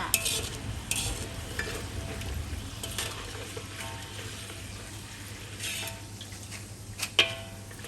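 Steady sizzling of crispy shell-shaped flour snacks (krong krang) frying in hot oil, with intermittent scraping and clinking as they are stirred in the pan.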